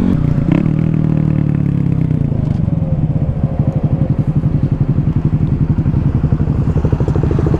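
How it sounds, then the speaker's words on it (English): A motorcycle rides close behind on the road, its engine a loud continuous drone with a pulsing, throbbing rumble under heavy wind buffeting. "I got a biker behind me."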